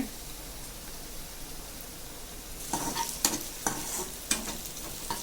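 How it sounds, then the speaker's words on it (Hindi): Green chillies, onion and cumin stir-frying in a pan give a soft, steady sizzle. A spatula adds sharper scraping and stirring strokes through the second half, with no talking. "अब इसको अच्छे से चलाते हुए फ्राई करना है।"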